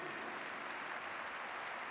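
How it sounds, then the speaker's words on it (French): Steady applause from a crowd at an equestrian show-jumping event, dense and continuous clapping filling the space without pause. "ce fabuleux cavalier irlandais qui sera ravi d'entendre vos applaudissements retentir, Mark McCauley"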